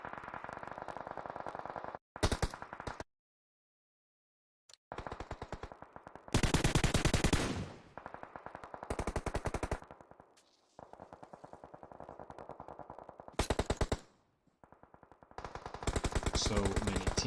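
Rapid automatic gunfire bursts loud and close in a battle royale scrim match, with repeated volleys broken by short silences and a few heavier blasts, some echoing.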